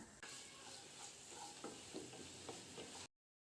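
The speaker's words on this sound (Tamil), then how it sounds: "வெங்காயம் கண்ணாடி பதம் வர வரையும் வதக்கி விடுங்க." Onions sizzle steadily in a hot pan, with a few soft scraping stirs breaking through the frying hiss; no voices.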